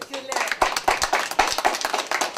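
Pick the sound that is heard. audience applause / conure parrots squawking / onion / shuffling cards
audience applause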